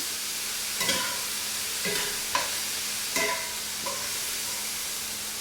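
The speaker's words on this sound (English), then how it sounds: "Now, as you can see, I'm sauteing the vegetables along with the meat." Vegetables and meat for carne guisada sauté in a pan, a constant sizzle broken by four or five distinct scraping stir strokes at regular intervals, close up and no voices.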